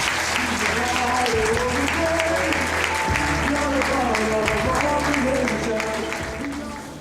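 A church congregation claps together during a worship service, steady loud applause filling the room throughout with a sustained musical tone beneath it.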